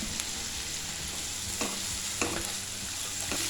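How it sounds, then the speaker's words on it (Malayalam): Chopped onions with salt sizzle steadily in a pan for an egg curry, a continuous frying hiss broken by a few scraping stirs of the spoon, close and fairly loud with no voices. "2-3 മിനിറ്റ് ഒന്ന് വഴറ്റി കൊടുക്കാം."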